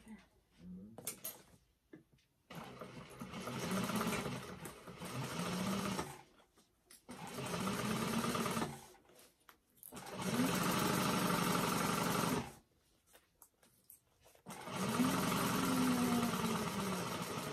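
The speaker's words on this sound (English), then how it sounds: "we're going to sew that one with a 3/8 of an inch seam allowance as well." A sewing machine stitches a bag seam at 3/8 inch seam allowance, running in four steady, humming bursts separated by short pauses, close and clear.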